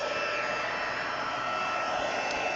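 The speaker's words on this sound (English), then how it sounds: "I'll remind you, this is not a blow dryer. It's a heat tool." An embossing heat gun blows a steady, loud, even whoosh on its emboss setting, held continuously with no talk over it.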